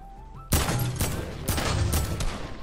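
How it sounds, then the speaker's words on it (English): Loud bursts of gunfire in a video game, several rapid volleys of shots following one another close up over about two seconds. "They got a baller there. I'm gonna shoot at it."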